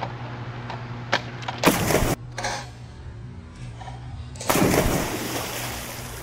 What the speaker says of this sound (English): There you go. Good splash.